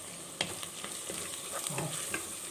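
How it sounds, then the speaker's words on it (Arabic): Cooked liver frying in a pan as paprika, cumin, black pepper and coriander are added, a soft continuous sizzle with sharp stirring scrapes and taps, fairly quiet, no talking. "اهو الكبده استوت فيها. هنحط التوابل بقى بابريكا وكمون وفلفل اسمر وكزبره"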